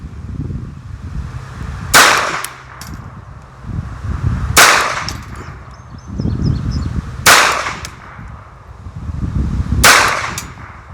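Four sharp pistol shots from a Taurus handgun, spaced roughly every two to three seconds, loud and close with a short echoing tail after each, over outdoor background rumble.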